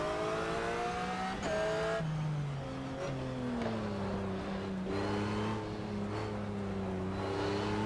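Race car in the GTR2 racing game oversteering, its engine note rising and falling steadily throughout while a tire squeal streaks across near the start.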